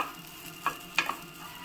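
Prawns stirred and roasted with turmeric in a pan, giving a faint, steady sizzle broken by a few soft scraping stirs, close by, with no talk.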